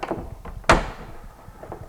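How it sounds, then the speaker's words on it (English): A door being closed against a putty knife held at the doorstop gives one solid thunk partway through, close and fairly loud, with light shuffling before and after. "put it against the doorstop and close the door again"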